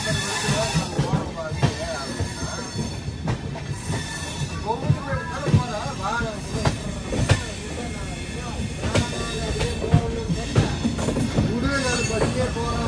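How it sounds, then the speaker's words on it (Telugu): Navajeevan Express running on LHB coaches, making a steady rolling rumble on the rails with repeated rhythmic wheel clatter and occasional squeals heard from inside the train, with faint voices at times. "ఎల్హెచ్బి కోచెస్ కదా, సౌండ్ చూడండి ఎట్లా వస్తుందో అసలు"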